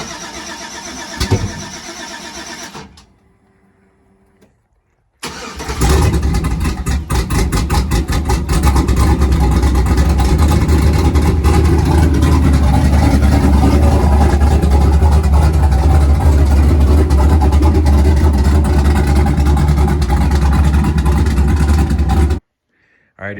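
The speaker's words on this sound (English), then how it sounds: "Bailey's going for a start on the old Reggie here." Turbocharged GMC truck engine catches after a few seconds of near-silence and brief cranking, then runs loud and steady for about seventeen seconds before cutting off abruptly.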